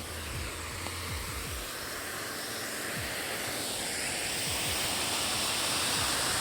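Narmada water rushes continuously through a large water filter plant in a broad, steady roar, growing slightly louder toward the end, with low rumbling underneath.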